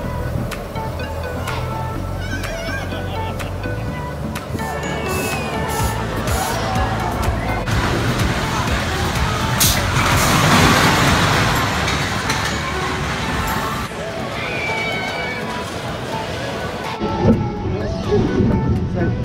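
The Crazy Loop roller coaster at Brean Theme Park rumbles along its track at a moderate distance, with a steady rolling roar that swells near the middle, set against crowd babble and nearby voices talking.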